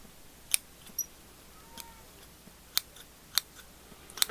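Scissors snip at bonsai tree roots during repotting, with several crisp, sharp clicks spaced irregularly over a few seconds, close by and fairly quiet, with no talking.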